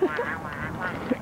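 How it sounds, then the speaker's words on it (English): A duck quacks several times in quick succession, close and fairly loud, with a nasal honking tone at an outdoor animal park. "That was a duck."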